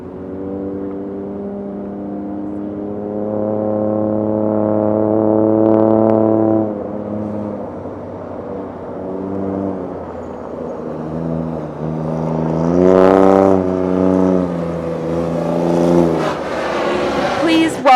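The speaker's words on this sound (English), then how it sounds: "Welcome the Bronco R race prototype." A Ford Bronco R race prototype engine revs and pulls away, its low droning note rising and falling in two swells with a sharp burst near the end, loud and close, with voices heard over it.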